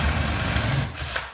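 A power drill bores a hole through wood, a loud close whine that runs steadily and then tapers off as the bit breaks through.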